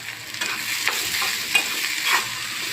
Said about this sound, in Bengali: আমি ওই তেলে আমি 1 বাটি পরিমাণে পেঁয়াজ কুচি দিব।